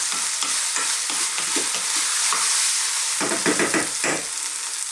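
A moussaka mixture sizzles and fries in a pan over medium to high heat while a utensil stirs it, scraping bursts over a constant hiss with no one talking.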